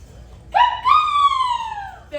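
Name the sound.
audience member imitating an eagle's cry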